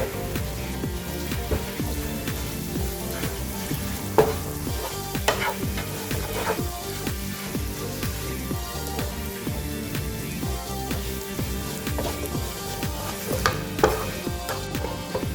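Spice powders with garam masala frying for liver fry, heard as a steady close sizzle with the scrape of a spoon stirring through it and a few sharp clinks, with no voices throughout.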